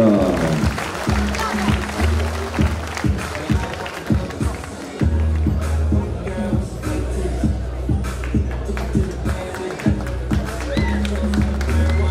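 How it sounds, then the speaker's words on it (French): Crowd applause in a large indoor space after the fourth round of a savate kickboxing bout, a steady wash of clapping and cheering that carries on for the whole stretch with a hum underneath. "on peut les applaudir"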